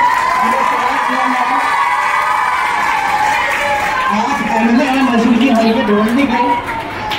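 A crowd at a school annual function cheers and claps to welcome the MLA Rais Qasam Shaikh of Bhiwandi, with a steady roar of applause and whoops under someone speaking loudly over a microphone throughout.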